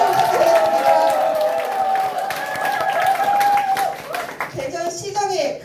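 Audience clapping at a Democratic Party core members' meeting in Daejeon, a steady patter of hands running under an amplified voice with a tonal background, then tapering near the end.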